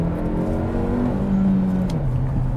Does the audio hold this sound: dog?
no